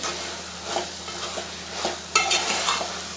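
A spoon stirs cauliflower curry in a pan after roasted coriander powder goes in, soft repeated scraping strokes over a faint sizzle, with a sharper clink of metal on the pot near the end.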